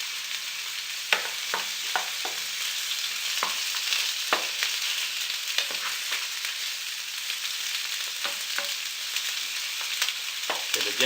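Rabbit legs sizzle in a frying pan, a steady bright crackle of hot fat at close range punctuated by frequent sharp pops and spits throughout.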